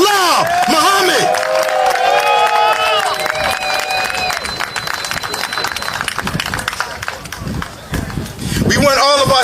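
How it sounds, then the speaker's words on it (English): An audience at a fundraiser press conference applauds and cheers loudly and continuously, dense clapping mixed with whoops and a voice speaking over the crowd. "Keep that round of applause going."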